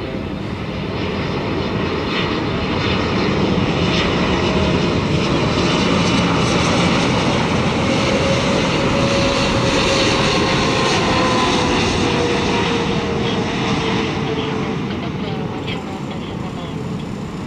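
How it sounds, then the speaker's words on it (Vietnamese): A US Army C-12 Huron twin-turboprop departs Tan Son Nhat airport, a loud sustained propeller-engine roar dominating the whole stretch, fairly near, with faint ambient airport noise beneath. "chiếc C12 của Hoa Kỳ đã được lệnh khởi hành rời khỏi sân bay Tân Sơn Nhất"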